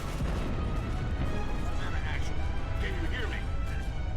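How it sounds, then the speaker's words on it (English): The Savannah warship is destroyed amid battle in Halo: Reach, a dense, continuous roar of crashing explosions and rumbling gunfire, loud and sustained with scattered sharp bursts. "we yet again advance and watch as the Savannah is destroyed"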